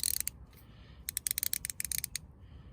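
A ratchet with a 10mm socket undoes a bolt on a Fiat 500 door handle hinge, giving quick bursts of fine metallic clicking close by, with short pauses between strokes.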